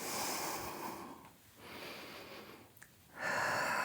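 Slow breathing through the nose during a Vinyasa yoga flow: long soft airy inhales and exhales, with a brief quiet gap between them, close and fairly faint.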